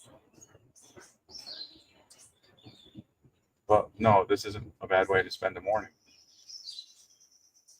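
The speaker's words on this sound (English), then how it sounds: "Sound of the ocean, sound of the birds." Birds chirp and tweet in short bursts near an ocean-view lodge by the Whale Tail in Uvita, with the birdsong faint in the background while someone talks close by.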